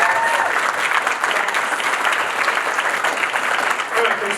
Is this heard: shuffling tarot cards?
no